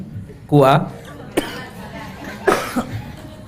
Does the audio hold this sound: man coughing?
yes